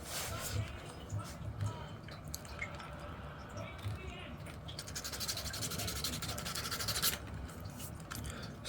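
Sandpaper rubbing on foam finger armour for a Cloud Strife glove costume, a close, continuous scratchy rubbing with some wet squishing, partly under a speaking voice.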